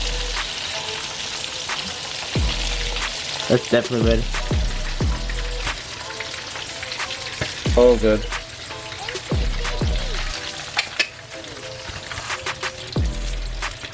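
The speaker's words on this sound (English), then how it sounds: "That's the sound of crispy shrimp." Oil sizzles and crackles steadily as shrimp fry, with intermittent clinks and bumps, and a person speaks briefly over the frying.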